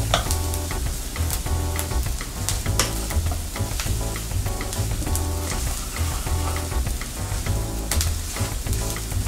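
Onions and minced garlic sautéing in a pan, a steady close sizzle broken by repeated scraping and stirring clatter throughout.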